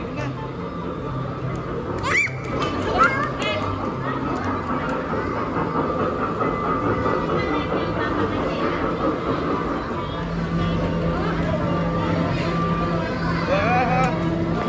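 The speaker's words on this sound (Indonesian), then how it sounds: "Datang keretanya, siap-siap. Kereta api. Kereta api." A small kiddie ride train at an indoor mall play area rumbles and clatters along steadily as it arrives, with voices talking over the mechanical noise throughout.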